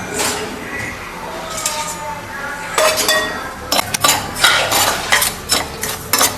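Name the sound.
stirring semolina (rava) while roasting it in a pan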